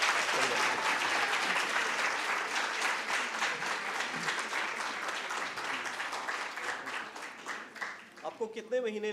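An audience at a health conference on diabetes and foot care gives a full round of applause. The clapping starts dense and strong, thins toward the end, and a voice begins speaking over the last moments.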